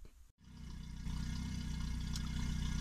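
Tuned Fiat Panda engine idling with its exhaust valve switched open, a steady low rumble that cuts out briefly, then returns and grows louder and fuller, running alone and close.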